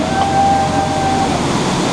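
Steady broadband rush of falling water at a waterfall passed on the Jungle Cruise boat ride, continuous and fairly loud for two seconds, with a faint tonal hum running underneath.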